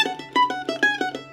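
A mandolin plays a quick lick of rapid picked notes that shift up the neck, close and clear, with evenly spaced plucks over a faint steady hum.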